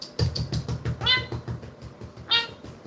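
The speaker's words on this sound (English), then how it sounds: "my cat was trying to move my stand, but now that she's here" A pet cat meows twice, loud and close, a drawn-out cry followed by a second call, over a low background hum and faint rustling.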